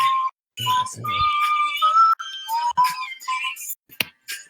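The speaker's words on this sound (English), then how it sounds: "Is that a flute or him whistling? That's him whistling." High, shrill whistling in quick bursts and glides, with short gaps between phrases.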